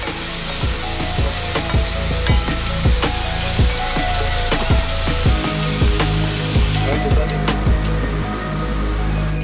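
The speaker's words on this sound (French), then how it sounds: "on va faire revenir donc l'aubergine et d'un côté et ensuite, il faut qu'elles soient bien cuites, on fait revenir les poivrons" Eggplant and then bell peppers fry in a pan, with a steady broadband sizzle and repeated scraping, knocking stirs from a utensil at a fairly even rhythm, close and loud throughout.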